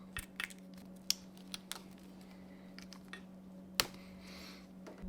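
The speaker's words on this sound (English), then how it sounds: "we're gonna start by cutting the wires" Wire cutters snipping through motorcycle wiring harness cables on a Yamaha R1 during a rearset install, a few sharp isolated clicks and snips spaced apart over a quiet steady background hum.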